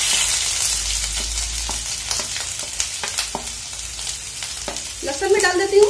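Ginger hits oil heated on a high gas flame in a pan and sizzles steadily, with a scatter of sharp clicks and scrapes from stirring, and the frying swells louder near the end.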